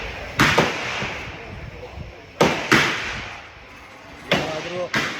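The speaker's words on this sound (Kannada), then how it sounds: "ಗನ್ ತೊಗೊಂಡ್ರೆ ಈ ಥರ ಇಲ್ಲಿ ಬಂದು 18 ಇಯರ್ಸ್ ಆಗಿರೋರು ಬಂದು ಇದು ಮಾಡಿದ್ರೆ ಹಿಂಗಿರುತ್ತೆ" Military guns fired at a Vietnam War site, three loud sharp broadband shots spaced about two seconds apart, each with a short decaying tail over steady background noise.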